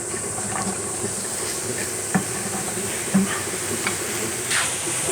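Thick mushroom slices dropped all at once into a hot oiled frying pan, giving a steady broad sizzle with scattered small pops and ticks, moderately close and even throughout.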